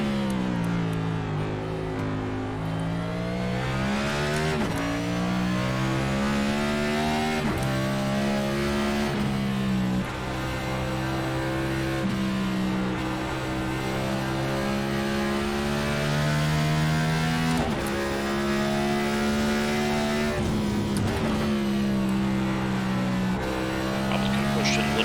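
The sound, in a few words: race car engine downshifting in the iRacing video game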